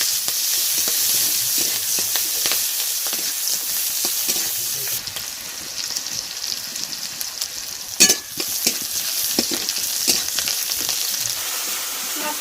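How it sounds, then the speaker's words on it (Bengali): Onion and green chillies fry in oil in a small kadai, giving a steady, moderate sizzle with intermittent stirring scrapes and one sharp clatter midway, close by and with no voices. "একটা পেঁয়াজ আর কাঁচা লঙ্কা তেলে দিয়ে দিলাম"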